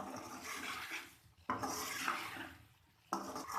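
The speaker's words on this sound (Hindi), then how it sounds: "अब हम चिकन को मज़ीद 2 से 3 मिनट तक मसालों के साथ भूनेंगे" Chicken karahi fries with spices in a wok, with soft rasping scrapes and stirring in a few long, repeated strokes that start sharply and fade; quiet, close, no voices.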